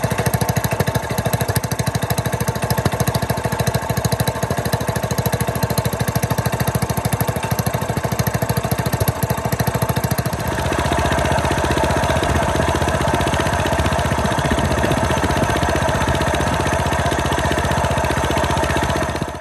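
A modified Coleman mini bike engine fitted with a DonnyFL suppressor runs continuously up close, a loud, rapid buzzing putter that shifts to a slightly smoother, steadier tone partway through.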